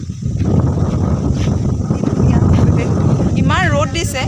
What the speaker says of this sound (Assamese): পূৰা বতাহ বলি আছে